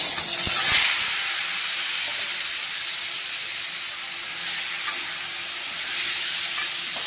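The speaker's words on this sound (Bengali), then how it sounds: "ওলটা আলুটা দিয়ে দিয়েছি লাল লাল করে ভেজে নেব" Chunks of elephant foot yam and potato hiss and sizzle loudly in hot oil in a home kitchen. The frying is steady and close, with a sharper burst near the start that settles into a constant hiss.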